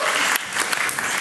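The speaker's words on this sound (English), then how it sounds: "Applause, please. Applause." A short burst of theater audience applause at a comedy theater interview in Amsterdam, dense clapping that dips briefly then continues, close and fairly loud.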